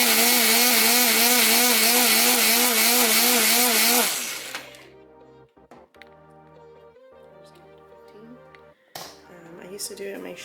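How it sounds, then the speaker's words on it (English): A countertop blender whirs loudly at a steady pitch, mixing coffee with butter for about four seconds, then cuts off and leaves quiet kitchen noise with faint clatter. "pop it in the blender"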